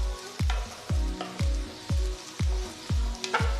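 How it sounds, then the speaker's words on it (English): Onions, ginger, garlic and green chilies sautéing in a pan, with rhythmic spatula knocks every half second or so over a light sizzle in the background. "Saute the onions, the ginger, garlic and green chilies till they are a nice golden brown color."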